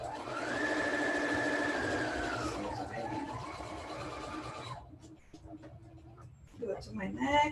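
A sewing machine stitches a patchwork line in a steady, close, whirring run of motor and needle for nearly five seconds, its pitch dipping slightly midway, then stops and is followed by light handling of fabric.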